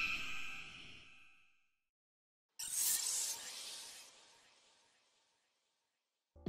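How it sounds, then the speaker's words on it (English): Beta level-up sound effects for Michael Myers from a video game: a breathy, sigh-like hiss that fades, then after a pause a sharp airy burst trailing off slowly, both faint and heard without any talk. "Michael Myers used to have a completely different sound effect when"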